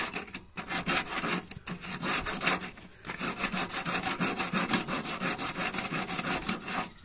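Metal file scraping a power window switch contact, the same kind used in an automatic sliding door, in quick, steady back-and-forth strokes that run nearly continuously and close up.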